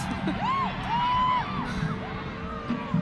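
Home crowd at a Montréal Roses women's football match in the Northern Super League against AFC Toronto, a steady wash of stadium cheering and noise with scattered whoops and rising shouts over a low rumble.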